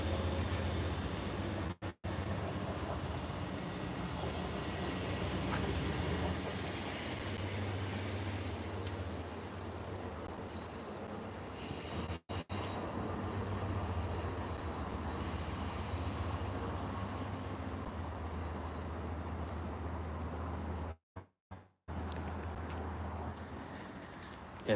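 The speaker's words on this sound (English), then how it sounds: "Can you hear the train at your house though?" A train rolls past near a house, a long continuous rumble of rail cars that stays steady and fairly close for the whole stretch, with no talking over it.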